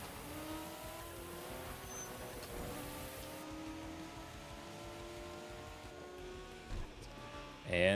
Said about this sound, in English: As they completely blow right past me in their Supra.